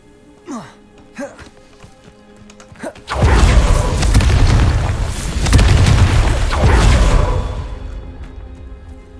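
A Confringo blasting curse goes off in Hogwarts Legacy: after a few soft taps and a spoken word, a sudden loud booming explosion erupts and rumbles on for several seconds before fading.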